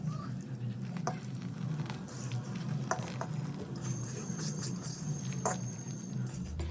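Ghee-coated Gobindobhog rice drops into boiling, thickened milk for Bengali payesh, giving a steady bubbling, sputtering patter with scattered soft clicks and stirring scrapes, heard up close and without voices.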